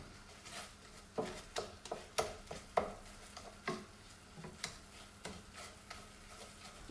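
Thai yellow curry paste is stirred into coconut milk in a pot, a soft simmering bubble under a series of irregular spoon scrapes and taps against the pan, fairly quiet, no talking.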